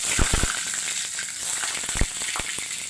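Potatoes go into a pan of frying bottle gourd greens, a steady sizzle broken by several sharp clattering knocks and a quick scrape or two.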